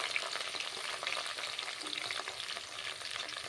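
Onion, mint and curry leaves with green chillies fry in hot oil, a steady close sizzle with soft scraping as they are stirred around the pan, and no one speaking.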